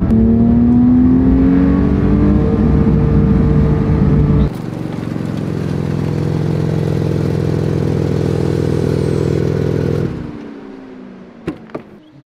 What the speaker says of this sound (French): Il y a comme un limiteur de régime dès que je l'atteins.